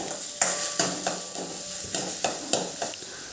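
Chopped onions, two medium ones, being sautéed in a pan, with a spoon stirring and scraping at a steady rhythm over a soft frying hiss, close and fairly quiet.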